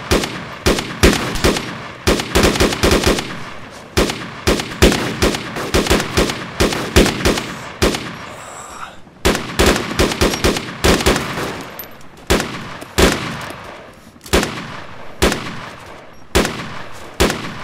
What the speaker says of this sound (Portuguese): Dá um disparo outro cadenciado aí pra chamar atenção pra nossa posição.